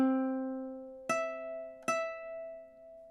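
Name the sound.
ukulele playing measure 9 of Star Spangled Banner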